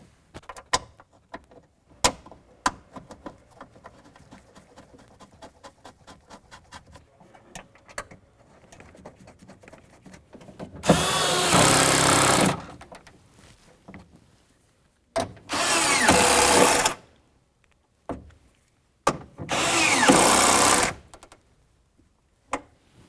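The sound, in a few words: power tool tightening window regulator mounting bolts, Honda Accord door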